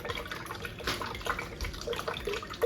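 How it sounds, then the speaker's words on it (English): Water poured into a jug of homemade pineapple juice sweetened with sugar, a soft, steady trickling and splashing close by, fairly quiet with brief drips, no voices. "but I need to add some more water"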